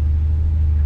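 An Electron electric city bus pulls away from a stop, its steady low motor rumble and hum droning loudly and continuously, with no voices.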